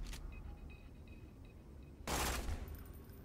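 Sandhawk shotgun from Borderlands 2 fires a quick burst, a faint rapid crackle followed by a loud, dense blast near the end, with no talking.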